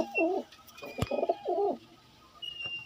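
Pigeons coo close by, several soft throaty warbling calls in a row, with a faint tap and a quiet background.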